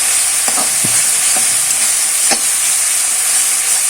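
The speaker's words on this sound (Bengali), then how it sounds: "মশলাটা আর একটু ভালোভাবে কষিয়ে যাবে।" Spice paste for a Bengali fish curry fries in oil, a loud, steady, close sizzle with a few soft spatula scrapes and knocks as it is stirred.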